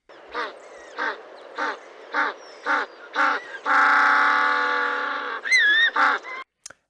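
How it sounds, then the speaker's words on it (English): Penguins in South Africa calling nearby, a series of short braying honks in a steady rhythm, then one long sustained bray, a few more honks and a final brief note. "So this is what penguins sound like."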